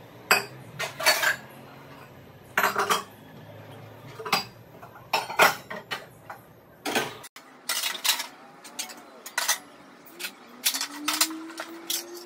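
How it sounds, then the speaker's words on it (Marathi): Steel utensils being stacked and arranged in a kitchen trolley: a run of bright metallic clinks and clatters in short irregular bursts, fairly close, with brief quiet gaps between handlings and no talking. "इथे आता मी सर्व भांडे इथनं काल घासून ठेवलेली ती सर्व रचून ठेवणार आहे"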